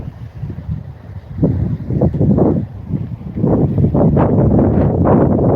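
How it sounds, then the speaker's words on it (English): Gusty wind buffets the microphone outdoors in uneven loud bursts, rumbling low and close, with no talking. "It's windy out here too."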